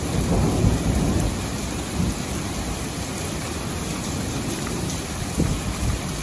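Thunder rumbles low and heavy under a steady roar of pouring rain in a June storm, the downpour continuous and loud with the rumble swelling near the start.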